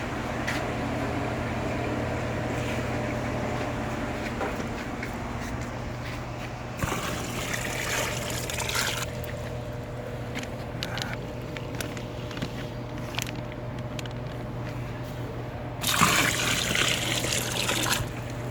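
Water trickles steadily while being siphoned into a container to acclimate a stingray, a soft continuous dribble over a low steady hum, with a brief louder splash near the end and no talking.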